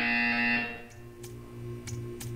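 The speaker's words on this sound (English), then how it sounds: "You will hear a buzzer." A buzzer in the video game Portal 2 sounds as a loud, harsh sustained tone for about half a second, then cuts off into a faint hum with a few short clicks.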